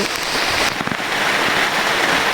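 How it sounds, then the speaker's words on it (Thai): Heavy rain pouring steadily onto surfaces outdoors at a rural Thai home, a loud dense hiss with scattered sharper drop impacts, no voices. "ฝนตกนะคะ"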